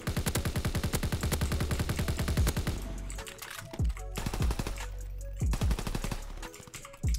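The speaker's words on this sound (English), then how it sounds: "This dude's just eating bullets in this corner" Automatic weapon fire in Call of Duty: WWII on PC: a long rapid burst of evenly spaced shots, then several shorter bursts separated by brief pauses, loud and close.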